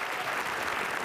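A studio audience on a family quiz game show claps in a short, even burst of applause, fairly quiet and without talk over it.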